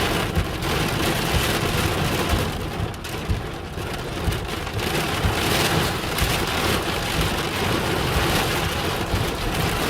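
Intense summer thunderstorm in Southern Alberta, heavy rain drumming steadily on a vehicle, loud and continuous with low rumbling thunder beneath, no voices.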